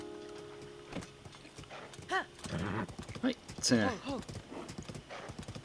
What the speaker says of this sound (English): It's a neat little thing that horses run towards you if you whistle